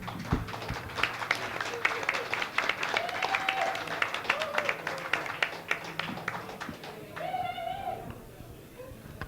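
Audience applause greets a Japanese film director after a screening and Q&A, a dense burst of clapping that slowly thins out, with a little talking mixed in near the end.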